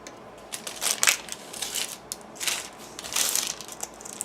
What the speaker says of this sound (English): You can see it peels off very, very easily.